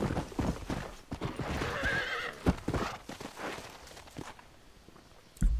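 Hooves clip-clop and a horse whinnies in the western video game Red Dead Redemption on Xbox One, with uneven steps, a louder neigh early on, and a thump near the end.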